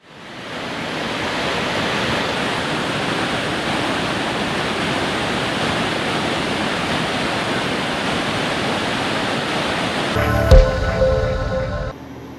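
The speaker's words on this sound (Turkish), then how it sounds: "Şiddetli rüzgar nedeniyle dökülemeyen ve yukarı doğru akan Waipuhiya şelalesi Hawaii" A dense, steady roar of rushing water and wind as strong wind blows the Waipuhia waterfall in Hawaii upward, broadband and constant for about ten seconds, ending with a brief burst of different noise.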